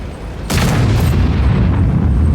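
A Jagdpanzer E-100 tank cannon fires once in a video game: a single loud, heavy boom followed by a long rumbling roar that keeps going.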